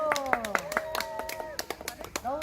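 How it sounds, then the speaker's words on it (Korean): Sharp, scattered hand claps from an audience after a children's ecological-environment play at a small library's culture-day event, ringing out unevenly while voices talk and call out over them. "박수 박수 박수."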